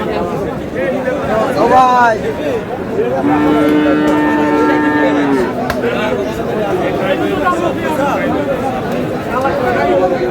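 Sahiwal bull calves moo repeatedly at a busy cattle market, several loud nearby calls with long drawn tones standing out over a steady crowd hubbub and chatter.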